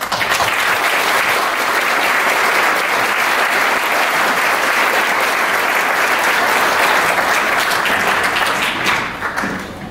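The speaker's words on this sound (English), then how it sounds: "This applause is for all of you." An audience in a church applauds loudly and steadily, a dense unbroken wash of many hands clapping that holds for about ten seconds before thinning slightly at the very end.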